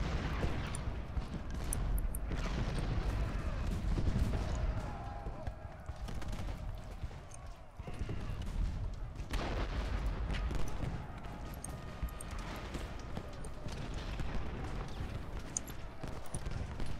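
Artillery fire in the Ultimate General Gettysburg video game, a dense continuous rumble of booming cannon shots and crackling gunfire at a distance, with a few sharper bursts standing out.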